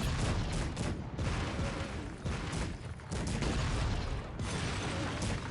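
Cannon fire in the strategy game Cossacks 3, dense overlapping booms and volleys forming a continuous, loud roar of battle throughout.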